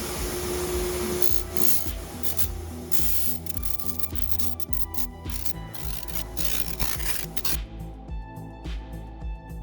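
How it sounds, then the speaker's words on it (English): Bench grinder wheels dressing the sharp edges of a cut metal plate, a steady close hiss and rasp that keeps up without break and thins out near the end, with no voices. "a few runs through the bench grinder wheels would clean up the sharp edges"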